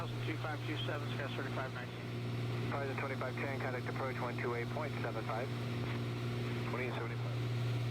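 A propeller aircraft engine in Microsoft Flight Simulator 2020 drones steadily during a climb, with the prop and throttle set back to climb RPM and manifold pressure. A voice talks over the constant, loud hum throughout.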